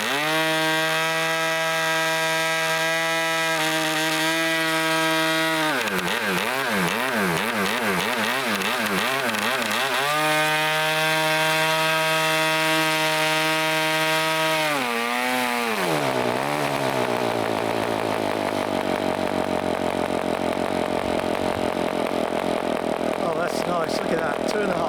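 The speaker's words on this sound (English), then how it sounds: "fuel on, throttle open, bit of a choke, and it wants to go" A small model engine fitted with a swapmeet carburettor runs on a test stand, a loud, buzzing, high-pitched whine that holds steady, wavers as the revs shift, then sags and rises again throughout.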